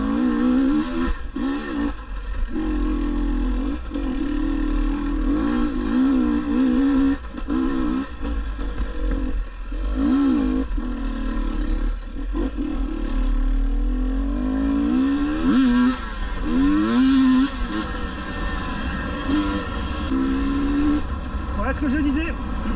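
A 2022 GasGas EC 300 two-stroke enduro motorcycle climbs a hard enduro slope, its engine note rising and falling in wavering revs, held on the clutch, close and continuous with a few brief dips.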